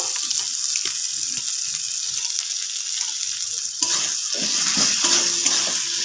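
Potol (pointed gourd) cooking in a pan with beaten curd, chili powder and turmeric, giving a steady sizzle with stirring scrapes throughout and a louder burst of frying partway through, with no talk.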